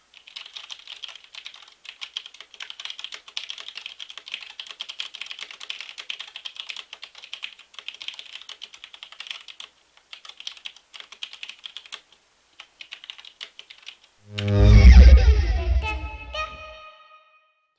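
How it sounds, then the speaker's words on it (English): Typing on a SteelSeries Prism gaming keyboard picked up through a USB gaming headset microphone, a fast irregular run of close clicks and clacks, pausing briefly before a louder thump at the end. "Prism keyboard test"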